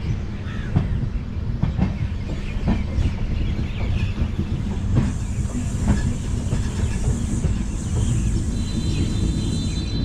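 The Radhikapur Express passenger train runs on rails near Naihati in India, giving a loud continuous rumble with rhythmic clickety-clack from the wheels over the joints and a steady hiss throughout.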